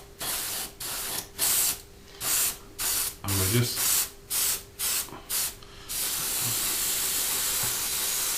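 An airbrush sprays dark sea grey X4 paint thinned about 25% onto the top of a 1/72 Jaguar T2 model kit, in a series of short close hissing bursts that give way to one long steady spray, with brief speech part way through.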